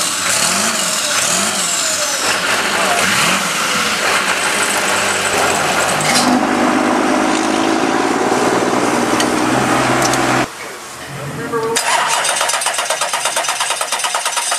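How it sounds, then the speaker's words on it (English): A biodiesel-fuelled car engine runs close and loud, rising through repeated revs with a throbbing, uneven rhythm, briefly dipping to a lower idle before picking back up with pulsing throttle bursts. "Rev it."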